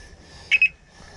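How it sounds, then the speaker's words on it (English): A fishing bite alarm on a lagoon bank gives two short, sharp electronic beeps in quick succession, loud over a quiet outdoor background. "Alarm's nice and loud so I can hear it from over there."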